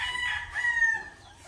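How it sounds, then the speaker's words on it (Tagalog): A fighting rooster (gamecock) crows once, close and loud, a single drawn-out call lasting over a second on a farm in Cavite. "Ayan, ang gaganda ng mga pangsabong na manok."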